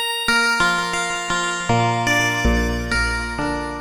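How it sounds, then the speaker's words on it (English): Bright, bell-like pad keys from a Waldorf Blofeld synthesizer play a slow sequence of sustained chords, each note ringing and overlapping with the next, with no talking. "Sort of a pad keys type sound."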